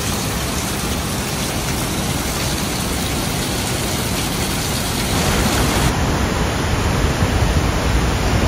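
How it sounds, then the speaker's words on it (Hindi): Water streaming down from rocks beside the Kedarnath trek trail, a continuous loud rushing hiss that stays steady throughout with no talking. "छोटा सा वाटरफॉल तो नहीं कह सकते लेकिन ऊपर से पानी आ रहा है पत्थर से"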